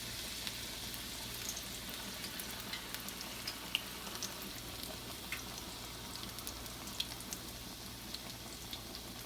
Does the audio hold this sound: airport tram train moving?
no